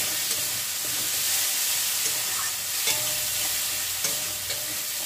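A spice masala with softened tomatoes is sautéed in a pan for jackfruit kofta, giving a constant loud sizzle with occasional scraping strokes of a spoon stirring through it.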